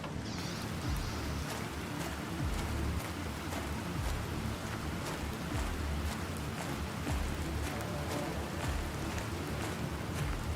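Steady rain falls in a crafting video game, a dense, even hiss of drops with small pattering ticks that holds at a constant level with no talking.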